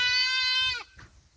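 A young first-kidding Saanen doe goat with Dutch Saanen parentage, kept with her kid, gives one long, loud, close bleat, followed by a short fainter sound and quiet surroundings.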